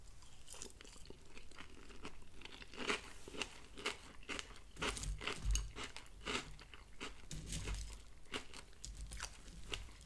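Close, continuous crunching and chewing of Kellogg's Cocoa Krispies cereal eaten with strawberries, with crisp irregular bites and crackles filling the whole stretch, no talking.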